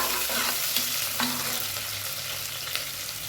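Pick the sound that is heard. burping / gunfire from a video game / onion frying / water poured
onion frying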